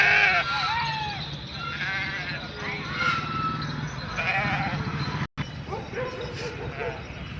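Goats or sheep bleating repeatedly among a livestock flock on the move with a Balumama palkhi procession in a village of Baramati taluka, Pune district, mixed with steady crowd noise, dog barks and people talking throughout.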